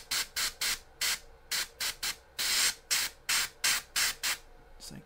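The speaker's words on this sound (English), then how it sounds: "I'm going to spray a little bit from below on his antlers." Short bursts of an airbrush spraying primer onto a model figure's antlers, shield and armor, about a dozen close hissing puffs in an uneven rhythm with brief pauses between them, with no talking.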